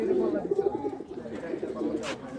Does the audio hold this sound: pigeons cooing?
yes